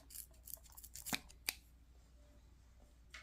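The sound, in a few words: scissors trimming off a piece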